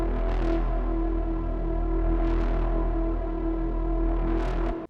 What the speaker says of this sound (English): I've created this patch with my Minifreak. Here are the settings if you're interested. It's really some simple saw waves with some LFO modulation.